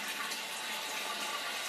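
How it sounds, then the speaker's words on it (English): A household toilet flushes, the flapper lifting so tank water rushes through the hole into the bowl, giving a steady, close, fairly loud broadband rush of flowing water throughout with no speech. "So when you flush the toilet, the flap goes up."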